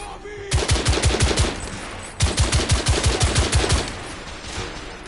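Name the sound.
gunfire in the video game The Order 1886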